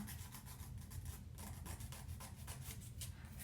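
Steady, close rasping of a file being drawn back and forth across fingernails while cutting down and shaping almond nails, a continuous quiet scratchy texture with repeated strokes and no talking.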